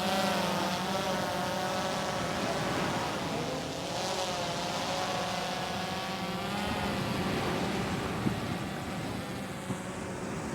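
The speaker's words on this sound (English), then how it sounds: "there's the drone up in the air" A fishing drone carrying bait flies over a beach, its propellers giving a steady whining buzz with shifting pitch, loud and continuous throughout, with no talk.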